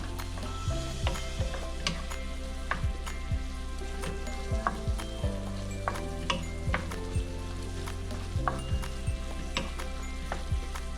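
Bean katogo frying in a pan with a little tomato sauce: a steady, close sizzle with soft intermittent scraping and stirring taps of a utensil against the pan throughout.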